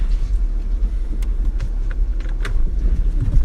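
A 2013 Mercedes ML pulls away, with a steady low engine and road rumble heard from inside the cabin, loud and continuous, with faint clicks and knocks over it.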